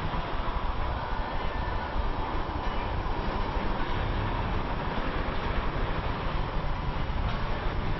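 A high-speed roller coaster at Dorney Park with steep drops and high-G turns, heard as a steady, loud, continuous rumbling roar of wheels on track, with no break from start to end.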